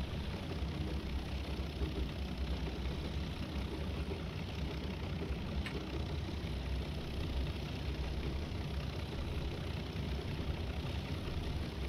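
In Train Simulator 2018, a Class 37 diesel locomotive pulls up a hill on the 1950s Riviera line, its engine a continuous deep, throbbing hum that holds steady and fairly quiet throughout.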